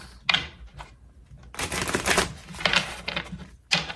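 Tarot cards being shuffled by hand in quick riffling bursts separated by short pauses, close and fairly soft.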